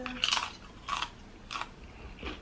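Crunchy Chipotle tortilla chips are bitten and chewed close to the mic, producing four sharp, brittle crunches spaced about half a second apart with no talking.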